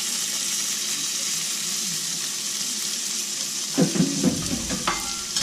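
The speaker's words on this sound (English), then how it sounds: "put my peppers in there" Peppers sizzle in a frying pan for beef stroganoff, a steady moderate frying hiss with a few clinks and scrapes of stirring toward the end.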